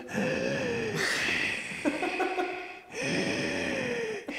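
A voice imitates a heavy man wheezing for breath, two long strained rasping inhalations with a raspy pause between, close and fairly loud.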